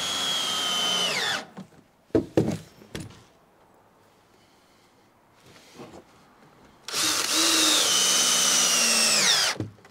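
A power drill drives screws through timbers in a wall frame, sounding as two long whirring bursts that rise in pitch, one at the start and one at the end. Short knocks and quiet handling fall in the pause between them.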